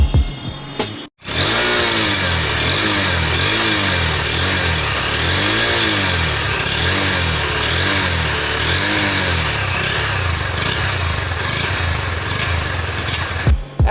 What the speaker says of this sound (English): Right now I will show you the sound of the exhaust note.